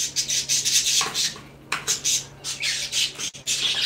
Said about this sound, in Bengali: দেখুন এটা হচ্ছে মদন টিয়া, সে কথা বলে